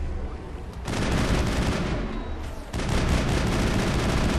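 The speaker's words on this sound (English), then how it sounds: "Taking heavy fire!" Heavy gunfire in the Mass Effect video game, a loud, dense, continuous barrage of shots and blasts that briefly eases, then surges again.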